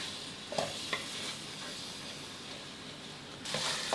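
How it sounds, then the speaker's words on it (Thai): Coconut cream stir-fries in a pan with a steady close sizzle, broken by several scraping stirs of a utensil against the pan bottom. "ผัดไปเรื่อยๆก่อนเลย คอยหมั่นคนด้วยนะครับไม่อย่างนั้นเดี๋ยวกะทิจะเกาะตามก้นกระทะหรือว่าก้นหม้อไหม้ได้นะครับ"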